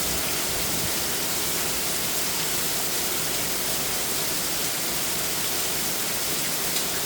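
Heavy rain pours down in Chandler, Arizona, a dense, unbroken roar like a waterfall filling every moment, close and loud with no voices.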